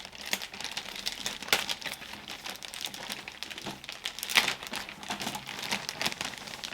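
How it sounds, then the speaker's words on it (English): Plastic bag crinkling around a Louis Vuitton Neverfull MM Monogram Empreinte dupe handbag as it is unpacked, a close, continuous rustle with sharper crackles scattered throughout. "So when you get your bag, it do come in a plastic bag like so."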